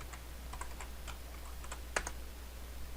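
Someone types a password on a computer keyboard, a short run of faint, quick key taps over a low steady hum, ending with one sharper keystroke.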